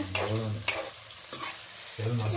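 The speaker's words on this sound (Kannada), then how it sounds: "ಈರುಳ್ಳಿ ಹಾಕೊಂಡು ಚೆನ್ನಾಗಿ ಗೋಲ್ಡನ್ ಬ್ರೌನ್ ಬರೋವರೆಗೂ ಫ್ರೈ ಮಾಡ್ಕೊಳ್ತಾ ಇದ್ದಾರೆ" Onions frying in oil until golden brown for green chilli chicken, a close sizzle with bursts of stirring and scraping against the pan, repeating in short rough strokes.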